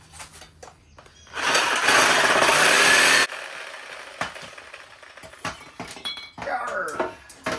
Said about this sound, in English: now we're gonna have to finish her out with the Sawzall, my least favoriteest cutting tool